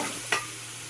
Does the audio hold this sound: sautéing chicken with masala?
yes